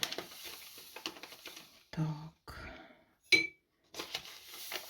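A spoon clinks and scrapes around a small container, stirring yeast into water, in quick irregular taps, close up, with brief pauses between bursts of stirring.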